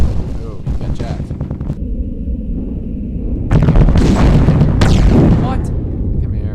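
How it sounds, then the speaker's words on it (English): Rapid bursts of turret gunfire from the video game Gimbal, booming and crackling in loud clusters over a steady low rumble, with a brief quieter gap between volleys. "He's got guns all over the place, and they're on turrets."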